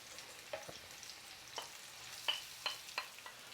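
Onion and garlic cloves fry gently in olive oil, a quiet hiss punctuated by a few sharp pops and spatters, heard up close with no one speaking.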